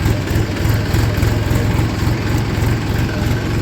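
Four or five tractors creep slowly in a line toward a sugarcane weighing point, their diesel engines giving a loud, steady low throbbing idle with a regular pulsing beat, close by and continuous with no talk.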